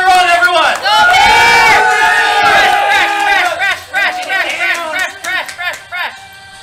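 Game show audience cheering and shouting loudly together, a dense roar of voices that swells and then breaks into scattered whoops and chatter.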